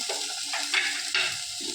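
Chopped tomatoes go into a hot pan and set off a close sizzle, with a couple of sharp clinks of a stirring utensil against the pan.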